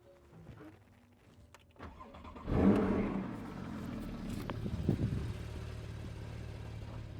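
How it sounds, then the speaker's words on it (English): A 2013 Porsche 911 Carrera S (991.1) fires up with its sports exhaust valves closed: a short starter whir, then a sharp flare of engine revs that settles into a steady, fairly close idle burble. "The very first thing I will do is to actually start it,"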